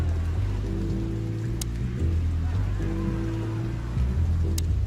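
Steady rain falls throughout a rainy street scene in the video game Chicken Police, a continuous hiss under low, droning music with a couple of faint high clicks.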